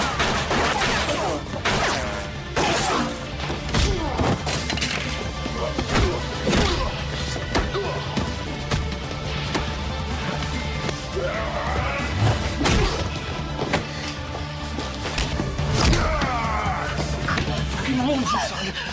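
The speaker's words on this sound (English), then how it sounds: "John and Sandra were suddenly ambushed, triggering an intense gunfight." An intense gunfight in a film scene with rapid gunfire, crashes and impacts, loud and dense throughout, mixed with voices talking and shouting over the action.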